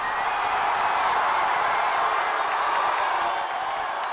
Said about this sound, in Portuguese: irrompe uma gritaria das grandes, tipo o barulho de uma pequena torcida.